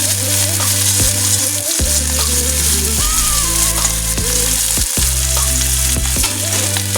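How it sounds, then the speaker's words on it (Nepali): Chopped onions fry in a pan while being stirred for spicy noodles, a loud steady sizzle with scraping stirs and background music throughout. "एकछिन पाक्न दिउँ प्याजलाई रातो हुन्जेल।"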